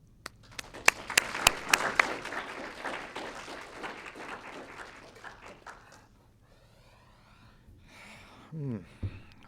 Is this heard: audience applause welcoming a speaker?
yes